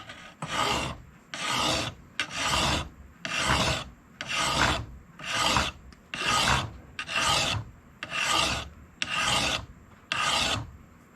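A meat cleaver edge being resharpened with a file, eleven even rasping strokes in a steady rhythm, close and clear with no talk.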